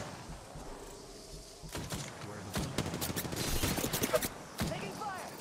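Gunfire in the video game Apex Legends: rapid bursts and scattered single shots, fairly quiet in the mix, building toward the middle and then easing off.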